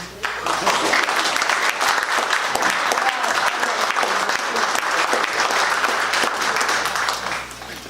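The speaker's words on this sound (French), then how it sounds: "Par tradition, on applaudit." An audience at a formal ceremony bursts into sustained applause, dense steady clapping from many hands that runs nearly eight seconds before tapering slightly at the end, with no talk over it.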